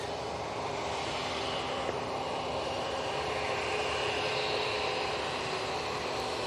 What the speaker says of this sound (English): Cathay's on the taxi towards us.